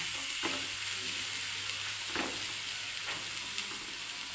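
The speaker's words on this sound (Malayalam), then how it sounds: "നമുക്കൊന്ന് ചിക്കിയിടാം." Vegetables for biryani being stirred in a pot, a steady frying sizzle with a few louder scraping strokes of the spoon against the metal, close up and with nobody talking.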